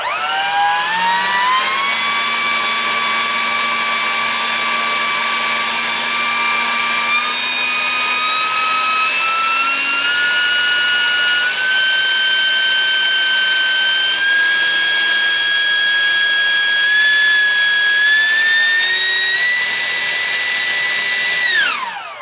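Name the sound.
64mm EDF electric ducted fan motor spooling up on Freewing F-105 RC jet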